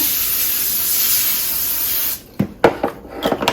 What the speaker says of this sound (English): I have my canola oil back out. I'm going to go ahead and spray that